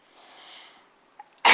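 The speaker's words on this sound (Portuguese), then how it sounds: "Agora comecei com tosse" A single sharp, loud cough bursts out near the end, after a soft breath and faint murmur, from a woman giving a spoken lecture on spiritual influence.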